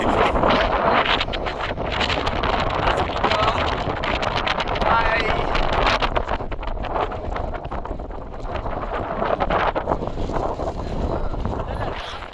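Wind on a mountain trek near Kodaikanal, a steady loud rushing buffet against the microphone throughout, with people talking underneath.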